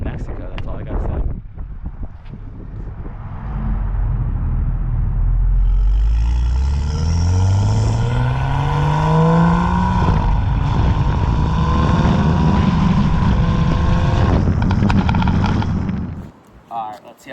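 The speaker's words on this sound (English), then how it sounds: "I'm gonna go get you guys some rev clips" A BMW M235i fitted with a catless downpipe revs hard nearby, its engine note climbing through repeated rising sweeps and holding a loud, raspy roar before dropping away at the end.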